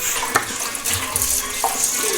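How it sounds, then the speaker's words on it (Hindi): Tap water running steadily into a sink while tomatoes are washed, a close continuous splashing rush with occasional small knocks, no voices. "मम्मा इन टमाटर को वॉश कर रही हैं"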